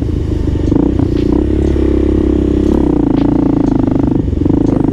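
A Kawasaki KLR650 motorcycle engine runs with a deep, steady grunting drone that stays loud and close throughout, with light mechanical clatter on top and no voices.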